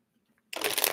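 A deck of tarot cards is shuffled up close, a dense riffling rush that starts abruptly after a brief quiet moment and continues steadily.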